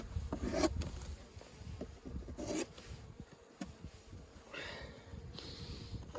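Beehive parts are scraped during a late-winter top inspection, giving intermittent rough scraping and rubbing strokes, close and faint, with a few bees buzzing around them.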